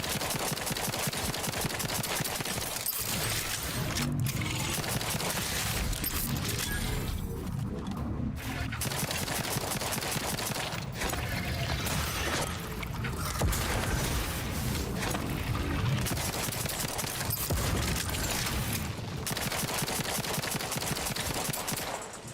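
Enemy gunfire in The Outer Worlds 2 rattles almost nonstop in dense automatic bursts and rapid single shots, loud and close, with mechanical clacks and occasional crashes mixed in.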